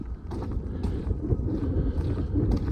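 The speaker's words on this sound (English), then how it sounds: "Now, I don't know what this wind is going to do. It might screw up the audio" Winter wind in a forest, a low steady rumble buffeting the microphone close up, rising and falling in gusts throughout, with no talk over it.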